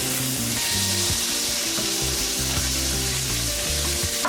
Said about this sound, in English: We're going to go ahead and add the tofu.